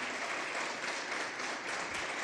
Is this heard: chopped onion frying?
no